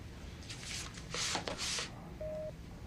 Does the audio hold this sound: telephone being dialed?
yes